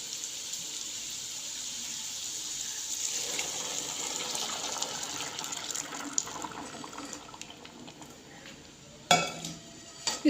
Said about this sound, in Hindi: अब इसके अंदर हम दूध डाल देते हैं।